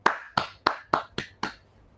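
Six sharp, evenly spaced claps, fairly close and moderately loud, with quiet gaps between them and no talking, as someone applauds a speaker at a school-to-career event.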